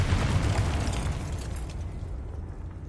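In the Hogwarts Legacy video game, a Confringo blasting spell goes off with a loud, deep explosive boom. The blast rumbles up close and then fades away over a couple of seconds, with no speech over it.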